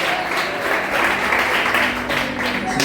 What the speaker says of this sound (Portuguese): Dê uma salva de palmas aplaudindo aí